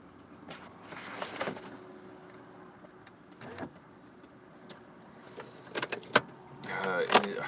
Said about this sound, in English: I need to roll down the windows